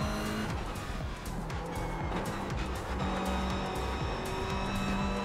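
Race car braking hard at Bathurst in the iRacing sim, engine note dropping through downshifts with tyre squeal, loud and continuous, no voices.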